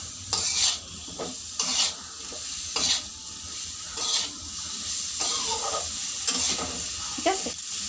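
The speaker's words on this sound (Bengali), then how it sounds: "এখন মশলাটা হলুদ আর নুন দিয়ে এটা একটু ভালো করে গ্যাসটা বাড়িয়ে নাড়িয়ে নিলাম" Spices with turmeric and salt frying over high heat, a bright continuous sizzle broken by repeated scraping strokes of the stirring spoon against the pan.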